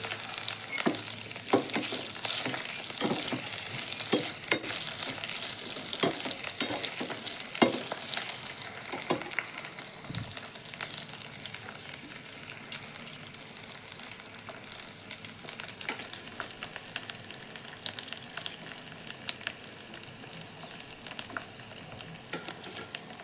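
Onions and garlic frying in oil in a pan, a continuous bright crackling sizzle punctuated by scraping stirs and occasional clicks, close and steady throughout with no voices.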